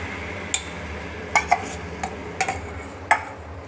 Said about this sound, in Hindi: अब हमने प्याज, टमाटर और खड़े मसालों की जो पेस्ट बना कर रखा था ना, वो इसमें ऐड करेंगे।